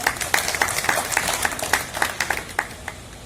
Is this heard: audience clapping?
yes